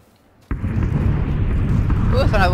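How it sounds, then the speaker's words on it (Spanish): In PlayerUnknown's Battlegrounds, a bomb-zone blast hits suddenly and is followed by a sustained heavy rumble of explosions. A voice briefly cuts in near the end. "Zona de bombas."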